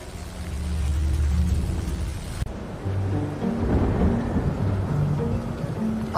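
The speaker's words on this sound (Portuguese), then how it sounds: "Ninguém sai até a tempestade passar." Thunderstorm with a low rolling rumble of thunder and a steady wash of rain, loud and continuous with a sudden cut partway through.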